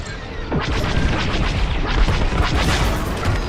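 A loud, sustained explosion in the Star Wars Squadrons space-combat game, a booming blast with crashing debris that rumbles on for several seconds, with no voices over it.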